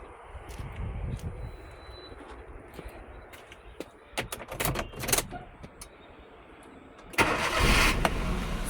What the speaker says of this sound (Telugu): సింగిల్ సెల్ఫ్లో స్టార్ట్ అయిందండి.